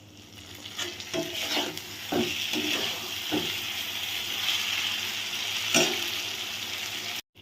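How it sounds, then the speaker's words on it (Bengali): Fried potatoes frying in spiced masala in a pan: a steady, loud sizzle with stirring scrapes and clinks of a utensil running throughout. "আলুগুলো দিয়ে দিয়েছি, দিয়ে একটু কষিয়ে নেব"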